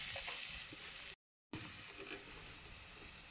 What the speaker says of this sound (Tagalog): Dito rin natin igigisa yung gulay natin.